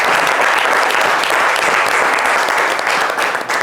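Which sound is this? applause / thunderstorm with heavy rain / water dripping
applause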